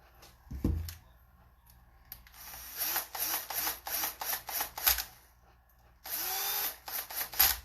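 A power driver runs screws back into a plate on an RC car transfer case, with short whirring bursts, a ratcheting buzz and clicks, and a thump near the start, close and fairly loud against quiet gaps.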